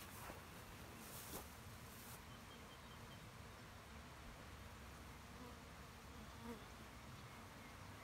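Package honey bees buzz continuously inside a top bar hive, a faint, steady swarm drone heard close with no other sounds over it.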